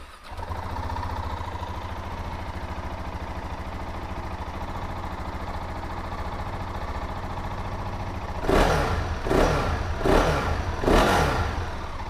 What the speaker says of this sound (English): So let's fire this one up and have a listen.